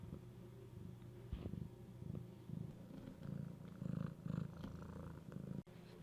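A cat purrs close by, soft and steady, with a slow rhythmic pulse and a low rumble behind it.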